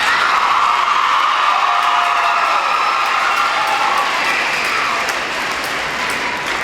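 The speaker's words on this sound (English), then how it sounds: "Let's give our boys one more round of applause." Loud, sustained applause from a pageant audience for the Mr. Parkland 2006 contestants, a thick continuous roar of clapping with faint cheers mixed in, easing slightly toward the end.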